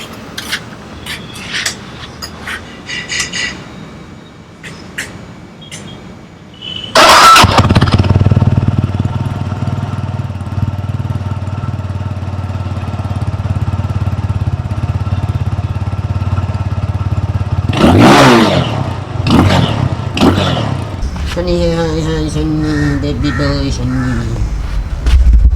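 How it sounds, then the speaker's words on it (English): A 2019 Benelli TNT 250cc motorcycle starts from cold after quiet handling noises, then idles with a steady, loud rumble and is revved sharply near the end, with a voice speaking briefly in places. "this is the 2019 cold startup on a Bentley TNT 250cc."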